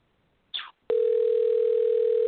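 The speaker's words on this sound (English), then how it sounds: "Pick up the phone, please, Kyle." A telephone line tone during a radio call-in: a short chirp followed by a steady, loud continuous tone that holds to the end, with no voices over it.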